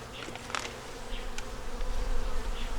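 Honey bees buzz steadily around an open beehive by a magnolia tree, a dense close swarm hum that swells slightly toward the end, with no talking.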